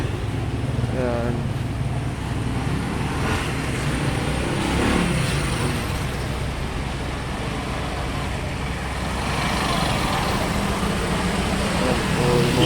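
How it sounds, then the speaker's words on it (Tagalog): Motorized tricycles drone past on a road in the Philippines, a continuous rumbling engine and traffic noise close by, with a person talking over it. "Yan po, yung mga tricycle."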